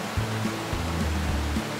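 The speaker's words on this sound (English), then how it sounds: "We briefly enter the fast-flowing Salmon River" Fast-flowing water of the Salmon River in Idaho, a dense continuous rushing roar filling the whole moment, steady and close, with a low engine-like hum beneath.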